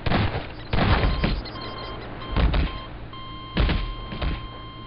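Wiremod turret in Garry's Mod firing at the player: a few sharp, spaced shots with a faint tone sounding between them.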